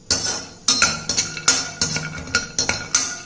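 Almonds tossed in ghee in a kadai on the stove, with a run of clinking metal taps and scrapes from a spoon against the pan, repeated every fraction of a second, close and fairly loud with no talking.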